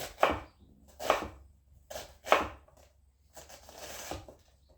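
A knife dices food on a cutting board for a white chicken chili, with about five distinct chopping strokes in an uneven rhythm, close and clear, with no talking.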